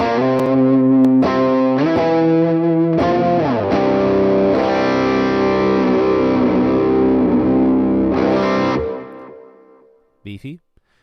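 Electric guitar played through the Neural DSP Morgan amp suite plugin, several sustained distorted chords ringing with chorus-like shimmer, then fading out before a brief burst of talk.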